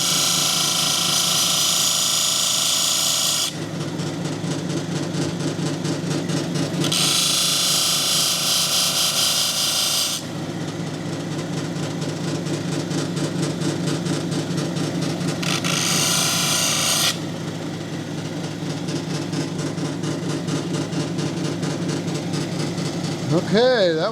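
Lapidary wheel grinds and polishes a petrified wood sample with a loud continuous motor hum and whirring, while the stone's contact against the wheel comes and goes as bright gritty surges.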